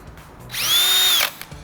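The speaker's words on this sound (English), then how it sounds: "This is my regular variable speed drill." A variable speed power drill used in an epoxy woodworking shop spins up with a rising whine, runs steadily for under a second, then winds down and stops, loud and close with no talking.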